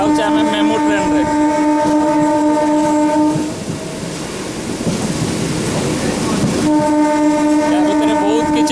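Bhubaneswar–Mahipur MEMU passenger train running loud and close, its sustained multi-tone horn sounding, cutting out for a stretch of rumbling wheel and carriage noise, then returning.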